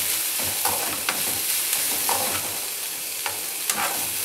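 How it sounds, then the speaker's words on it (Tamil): Onion, green chili and curry leaves fry in hot oil with popped mustard seeds for kara paniyaram, a steady close sizzle broken by several sharp stirring scrapes. "கடுகு பொரிஞ்சோன்னே இந்த வெங்காயம் பச்சை மிளகா கருவேப்பிலை இதெல்லாம் சேர்த்துட்றேன்."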